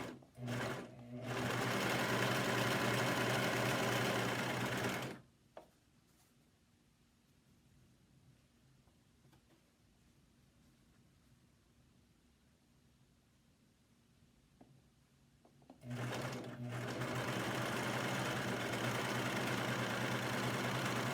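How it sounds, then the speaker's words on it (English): A sewing machine joins brown and blue fabric strips, running in a fast, loud, steady burst, pausing for about ten quiet seconds, then starting up again in another continuous run. "Now I'm just going to sew these strips together, alternating from brown to blue, brown and blue, to make one long strip."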